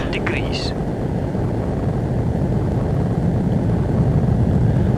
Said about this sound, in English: We'll go full power and use our afterburners and get off to takeoff speed.